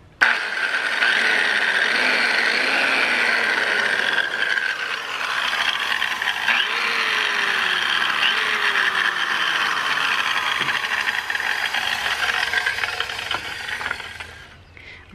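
A vintage 1961 Craftsman circular saw with a metal housing runs steadily and close for about fourteen seconds, a whirring mechanical whine with faint rattles, then cuts off near the end.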